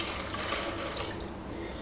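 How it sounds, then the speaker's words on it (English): Water poured from a jar into a pot of rinsed macaroni in a home kitchen, a steady close splashing and gurgling stream that runs unbroken from start to end. "I'm gonna take my new jar of water and put that in."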